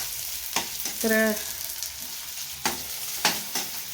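Onion fries in hot oil for a vegetable dish with peas, giving a soft sizzle punctuated by several sharp stirring scrapes, close up, with a brief voice heard in between.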